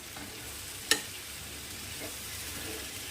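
Eggplant pieces are stirred into a hot pan of sautéed spice masala for a country-style Maharashtrian vegetable dish, giving a steady soft sizzle with a single sharp utensil clink near the start and faint scraping afterward.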